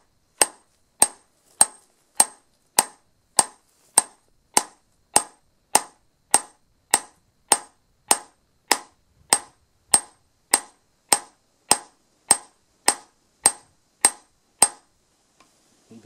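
A hammer peening a scythe blade strikes about twenty-five sharp metallic taps in a steady, even rhythm, close and clear with silence between blows and no voices.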